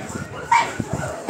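Dogs without shelter in a downpour greet people bringing food, giving a short whimper and soft yips; close and brief, with a voice talking over them.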